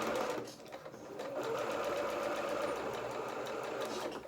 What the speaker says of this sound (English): take that to the sewing machine and sew it on the slant